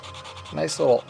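Fine abrasive scuffing on a plastic model airplane canopy edge, a soft rhythmic rubbing followed by a couple of louder close strokes.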